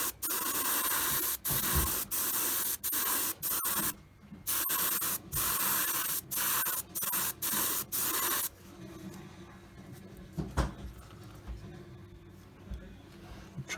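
Mission Models paint sprayed through an airbrush in a test, with steady bursts of hissing spray stopping and starting rapidly, then a quieter stretch with faint handling noises.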